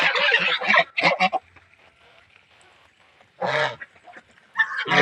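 Farm geese let out several loud, harsh honking bursts close by, with quiet gaps between the calls.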